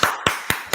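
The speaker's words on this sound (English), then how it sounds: "Clap it up for that." Four sharp hand claps in a slow, steady rhythm from a crowd or a single clapper at a live event, loud and close, with no talking over them.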